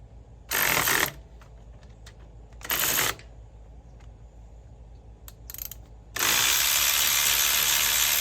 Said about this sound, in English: So you remove this 10mm bolt here.